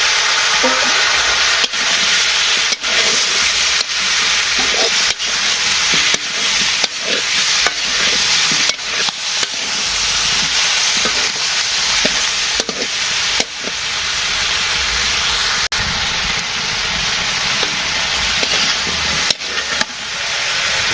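Potatoes with tomatoes added fry in a pan over a village cooking fire, giving a loud, steady sizzle with frequent scraping stirs throughout, no voices.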